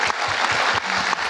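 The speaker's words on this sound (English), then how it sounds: "Can we give a round of applause to Alan?" Short burst of audience applause for Alan at a community design talk, close and fairly loud clapping lasting only a moment.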